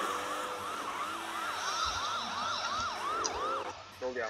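Police sirens wail in a video game chase, a steady yelping up-and-down tone repeating over rumbling engine noise, loud and close, fading out near the end as a brief voice cuts in.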